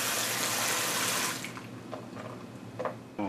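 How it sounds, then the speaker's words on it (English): Hot water runs steadily from a tap into a kitchen sink for about a second and a half, then cuts off, leaving a few small clinks and splashes nearby. "So I got some hot water in the sink."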